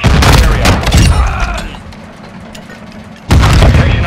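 Grenade blast in a Call of Duty: Modern Warfare II Hardpoint match on the Embassy map: loud bursts and gunfire up front, a quieter rumbling stretch, then a second heavy boom near the end, with shouting voices mixed in.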